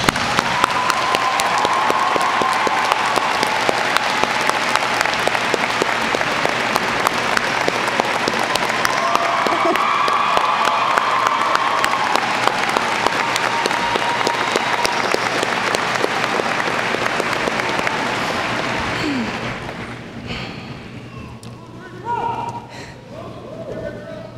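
A graduation-day audience at Hanahan High School gives a long, dense round of applause that fills a large hall for about twenty seconds, then quickly thins to a few scattered claps and quieter room noise.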